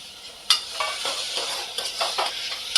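Finely chopped tomato, garlic and ginger fry with onion in a pan, making a soft sizzle broken by repeated scraping and stirring strokes, with a sharper clink of the utensil at the start and end, and no voices.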